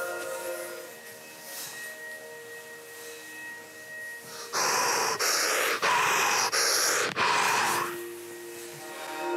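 Intense rhythmic breathing exercise, with a run of loud, forceful breaths in quick cadence and short gaps between them, set against a quieter steady background.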